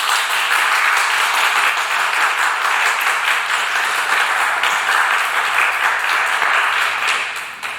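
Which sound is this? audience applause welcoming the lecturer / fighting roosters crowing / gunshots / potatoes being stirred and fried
audience applause welcoming the lecturer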